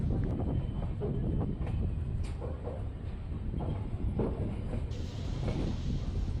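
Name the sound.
train departing Holenarasipura railway station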